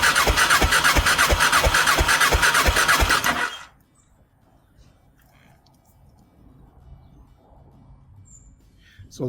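A cold Honda Deauville NT650V engine cranks at full throttle during a compression test, giving a loud, rhythmic chugging whir for several seconds that cuts off abruptly into near silence.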